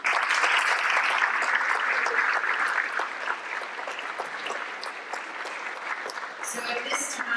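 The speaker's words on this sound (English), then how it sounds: "one big round of applause again." Sustained audience applause at a school top-ten student recognition event and board meeting, dense clapping that holds loud for several seconds, then gradually thins while still continuing.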